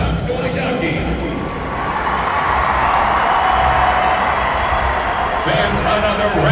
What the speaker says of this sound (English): Fans, another round of applause for Arizona's tribal royalty contingents.